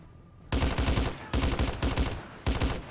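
Three bursts of automatic gunfire in the Hitman stealth-action video game, loud and close, each rapid volley lasting about half a second to a second with brief pauses between, no talking.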